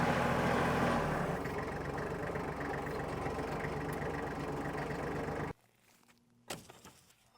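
Tractor engine running while lifting a truck bed off a 12-valve Cummins International truck, a loud steady rumbling drone close by that cuts off abruptly near the end, leaving quiet with a brief knock.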